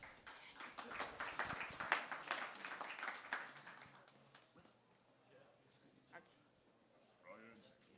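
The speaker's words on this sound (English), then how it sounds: "Let's give a round of applause." Conference audience applauds a speaker being introduced at a Denver tech event, a dense burst of clapping that fades after a few seconds, leaving a quiet room with faint stray sounds.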